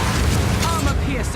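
Incendiary crossbow bolts fire in Path of Exile 2, giving dense, booming bursts with crackling pops under a steady wash of game noise and music.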